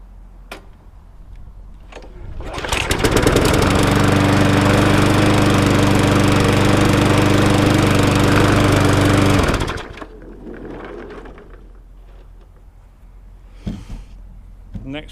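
Briggs & Stratton engine on a Sovereign self-propelled lawnmower starts, runs at a steady loud drone for several seconds, then cuts out, with quieter background sounds before and after.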